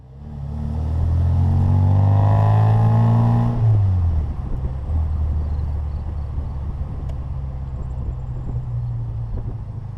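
1960 Bugeye sports car with a five-speed gearbox driven hard: the engine revs up loudly through rising pitch for a few seconds, then drops back to a steady rumbling cruise from inside the car.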